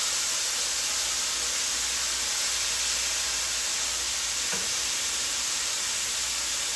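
Pork tenderloin searing in a hot pan gives a steady, even sizzle and hiss that stays constant throughout, with a brief soft knock midway and no talking.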